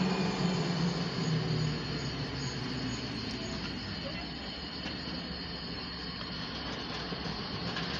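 A westbound CSX intermodal stack train passes through Erie, Pennsylvania, with a steady, loud rolling rumble and rattle of railcars that holds evenly throughout, with no voices.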